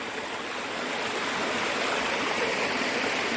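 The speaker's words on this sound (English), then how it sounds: "Just running water everywhere." Running water and waterfalls along Taylor's Creek in the Kolob section of Zion make a steady, dense rush that grows slightly louder over a few seconds, with no voices.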